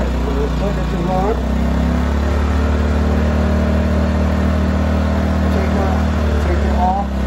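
A Predator 2000 inverter generator converted to run on propane, humming steadily and close with a constant engine drone throughout, someone talking briefly over it.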